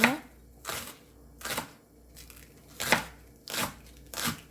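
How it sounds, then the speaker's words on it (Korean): A knife slices a green onion (daepa) into thin rounds on a board, six sharp separate chops spaced roughly half a second to a second apart, close and fairly quiet. "대파 한 뿌리 송송 썰어서 준비해 주세요."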